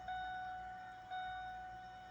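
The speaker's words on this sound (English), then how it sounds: "That noise you hear, that's just the air compressor for my" Faint, steady mechanical whine and hum from an air compressor filling the auxiliary air tank for air horns on a 2000 Ford Expedition, continuous and even with no voices.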